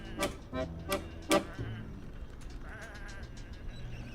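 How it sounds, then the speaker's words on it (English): Sheep bleating in the Whateverland video game, three or four short nasal bleats close together near the start, then fading into a quiet ambient backdrop with faint ticking. "Come on, these are just sheep."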